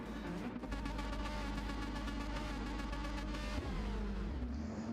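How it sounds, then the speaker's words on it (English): Race car engines rev together on the grid in Gran Turismo 7 at Deep Forest Raceway Reverse, a dense, buzzing whine of several motors held at high revs with pulsing throttle blips, steady and close. "sitting here, revving up the engines"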